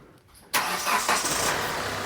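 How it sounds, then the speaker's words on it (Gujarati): After a quiet moment, a Hyundai i20 diesel engine suddenly cranks and catches, settling into a loud, rough, rumbling idle close by. "ચાલુ કરતા ગાડીને"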